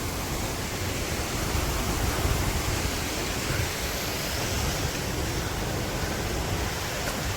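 Falling water at Kalu waterfall in Malshej Ghat on a steep, difficult path, a constant broadband rush that is moderately loud and unbroken, heard without any speech.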